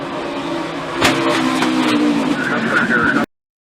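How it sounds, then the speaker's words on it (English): NASCAR race cars skidding and crashing on track, a loud continuous roar of engines and tire scrub with a sharp impact about a second in, under excited commentary, cutting off abruptly. "They're crashing."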